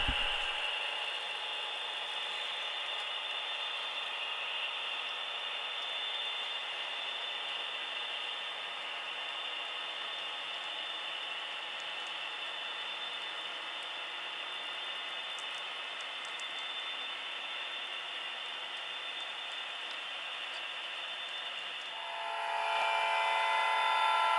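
A model train runs on a Santa Fe and Rio Grande layout, a local with boxcars heading back toward the yard, giving a steady, even mechanical whir and hum that holds unbroken before shifting near the end.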